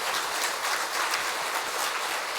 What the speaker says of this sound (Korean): 강사님께 다시 한번 뜨거운 박수를 보내주시면 감사하겠습니다